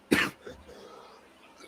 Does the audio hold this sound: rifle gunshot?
no